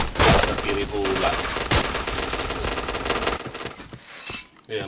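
Rapid gunfire in the video game Point Blank: dense, loud bursts of automatic shots roll almost continuously, then thin out and drop away near the end.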